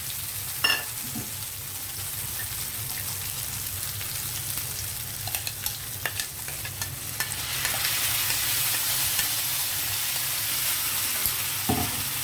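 Moringa leaf chutney mixture sizzles and fries steadily in a pan, with occasional scraping clicks of a spoon stirring; no voices.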